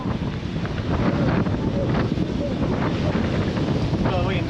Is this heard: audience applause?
no